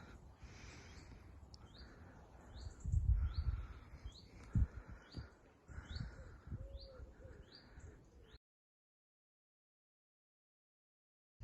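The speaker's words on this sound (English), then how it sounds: "just taking the sounds of the birds" Birds sing and chirp in a wooded area with repeated short tweets and some cooing, moderately distant, mixed with footsteps or rustling nearby, then the sound cuts to silence for the last few seconds.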